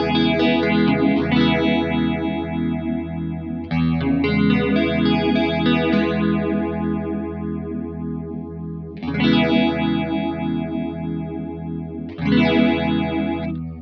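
Guitar run through a Strymon Zelzah modulation pedal's phaser with the voice and depth knobs turned up, sweeping strummed chords with a swirling, layered shimmer that swells and restrikes four times, loud and alone.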